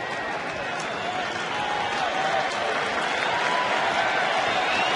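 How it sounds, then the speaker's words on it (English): Sustained crowd roar at a baseball stadium during a Twins at Rangers game with two strikes and two out, a loud, steady wash of many voices and cheering that holds throughout without a break. "Crowd gets into it now."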